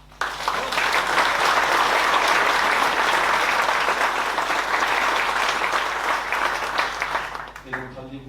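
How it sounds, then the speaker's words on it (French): Loud, sustained applause from an audience at a 2024 festival edition presentation, swelling quickly and holding steady before tapering off near the end as a voice begins to speak. "on peut tous applaudir très très fort"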